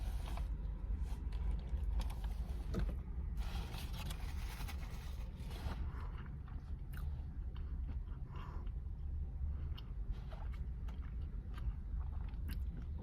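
Crunchy chips from a taco being chewed close up, a dense run of crackling crunches and bites continuing steadily, loud and near with no talking.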